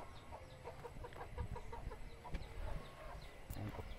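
Chickens cluck softly and repeatedly in short bursts over a faint outdoor background, fairly distant and low in level.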